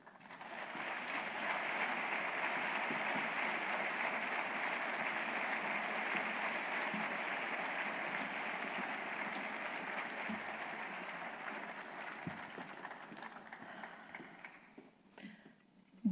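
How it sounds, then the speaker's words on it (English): Sustained audience applause fills a ceremony hall as Kosovo's President Vjosa Osmani and Dua Lipa are honoured, a steady dense clatter of many hands that holds loud for about thirteen seconds before thinning and tapering off. "please give her another round of applause"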